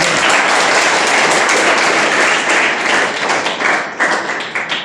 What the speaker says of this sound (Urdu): شاباش، بھی تالی بجاؤ بھی ان کے لیے